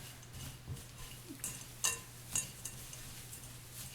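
Dry granola ingredients are tossed in a bowl, making quiet, sporadic clinks and light rattles with short pauses between them and no talking.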